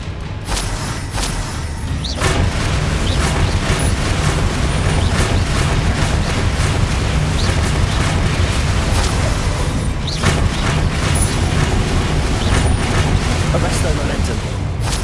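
Heavy explosive spell blasts, Bombarda and Confringo, in the Hogwarts Legacy video game: repeated loud booms and crackling detonations over a constant rumbling roar, with voices shouting through the fight.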